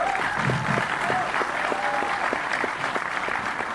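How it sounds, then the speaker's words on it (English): A trailer launch audience claps for Sanjay Dutt in a brisk, continuous round of applause at moderate distance, with a few whistles cutting through the crowd noise. "One big, huge round of applause."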